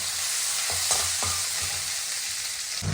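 Sliced onion fries lightly in hot oil in a pan, a steady, close hiss of sizzling with a few soft knocks from stirring.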